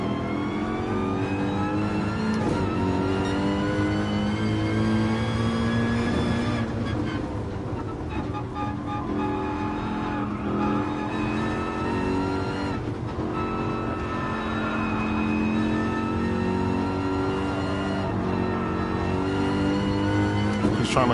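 Racing car engines from Gran Turismo Sport, including a BMW M3 GT3, roar loudly and continuously, with revs rising and falling through gear changes as cars battle closely on track.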